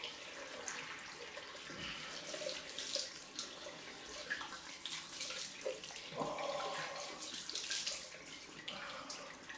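Water runs steadily from a tap onto a head during a head shave, a soft continuous splashing hiss with occasional louder gushes, heard close and without voices.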